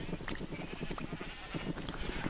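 Minecraft sheep bleating in a video game during a shearing run, several short bleats repeating close by over a steady busy game background.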